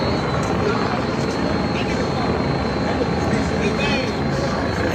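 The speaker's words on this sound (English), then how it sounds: "The drones are still flying because I still hear them, but I don't see them." Drones flying overhead in a city street, a steady broadband engine drone with faint whine, continuous and somewhat distant, mixed with crowd noise.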